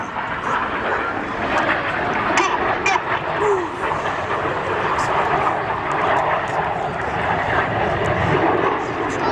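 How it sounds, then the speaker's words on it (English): An aerobatic display aircraft at an airshow roars at full power while pulling up for a second roll, giving a loud, steady engine drone over a wide rushing wash with no break. "Pitching up full power, squeezing to 6G, getting ready for the second roll."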